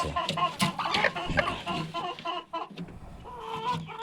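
Chickens in a poultry farm cluck close by in short, irregular bursts, a few soft murmuring calls overlapping.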